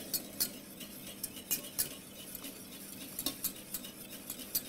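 A spoon stirs a blueberry mixture in a pot, with repeated soft scrapes and light clinks against the metal at an uneven rhythm over a faint background hiss.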